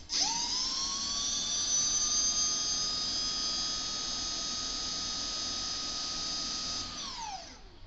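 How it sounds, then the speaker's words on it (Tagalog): Brushless DC motor on a BLDC controller whining at steady high speed for several seconds, then winding down and stopping when the low brake signal is triggered; loud, close and continuous. "The motor will then stop spinning."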